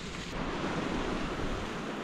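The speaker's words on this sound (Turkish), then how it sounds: "Hey, look at this waterfall." A waterfall beside a road near the Colombia–Ecuador border sends up a steady, dense rushing roar, continuous and fairly loud with no breaks, heard alone.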